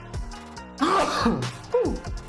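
A sneeze bursts out at a tabletop role-playing game session, a sharp loud burst with a second shorter one after it, close to the microphone, and no talk over it.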